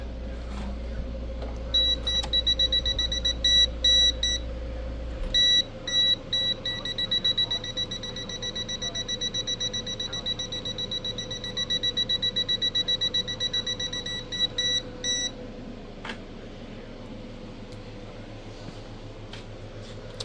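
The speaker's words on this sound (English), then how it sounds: "I think it just beeps. I think that's all it does," A high electronic beep from a Thsinde 18B+ multimeter (a Fluke copy) sounds in rapid repeated pulses for about thirteen seconds, then stops, over a low steady hum.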